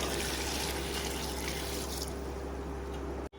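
Water poured into a cooking pot for a goat head recipe, a steady close splashing rush that thins into a lighter stream before stopping abruptly near the end.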